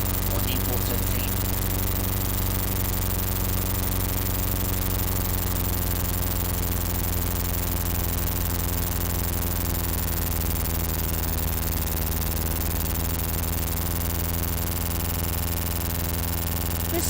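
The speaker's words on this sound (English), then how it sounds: "This sounds like a lawnmower and doesn't sound anything like a rotary engine." Droning World War I aircraft engine in the 1990 flight game Red Baron, a steady buzzing hum like a lawnmower, loud and unbroken throughout with no pauses.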